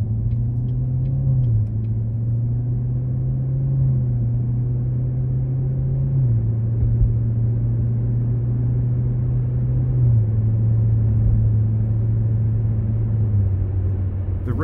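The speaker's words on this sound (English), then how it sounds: "The road noise isn't too bad in the C7. You can hear it, but not as bad as some cars" A steady low rumble of road and engine noise from inside a moving 2015 Chevrolet Corvette Stingray C7 Z51, continuous and even, with the engine pitch stepping up and down at times.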